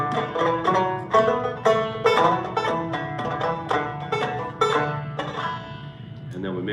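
Two banjos playing Stephen Foster's Hard Times Come Again No More together, with bright plucked rolls at a steady, relaxed pace, clear and close, with no talking.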